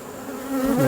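Honey bees buzz close by around exposed comb full of larvae and brood from a frameless hive, a steady droning hum that swells slightly louder toward the end.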